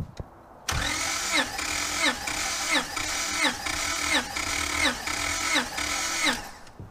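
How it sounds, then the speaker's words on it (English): A 2005 Honda Pilot engine cranks over steadily with a compression gauge fitted, a rhythmic whirring of the starter rising and falling in even pulses for about six seconds, loud and close, then stopping. "Now we're going to attempt to start the engine and see what pressure it registers."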